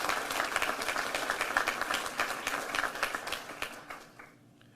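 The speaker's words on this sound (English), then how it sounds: "Let's give her a round of applause." A room at a DeKalb County Police press conference breaks into a round of applause for a DeKalb Sheriff Department member: loud, crisp clapping from many hands that thins out and fades near the end.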